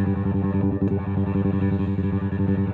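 Bass guitar through EBS effects and distortion, its tone control sweeping from low to high while a sustained note rings loud and steady, with no talk.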